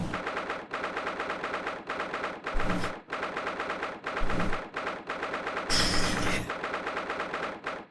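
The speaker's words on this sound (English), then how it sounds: "It really does just sound like gunshots." Gunfire in The Great Ace Attorney video game, in rapid bursts, with rattling automatic shots broken by short pauses and a few heavier thuds, no talking.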